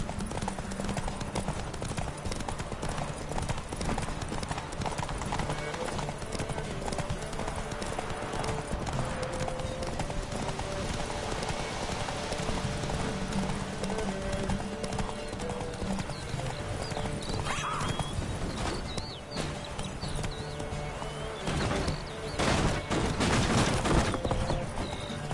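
Horse hooves clip-clop in a steady galloping rhythm throughout a PS4 video game, with a brief whinny and a muddle of game sounds and music layered over the continuous hoofbeats.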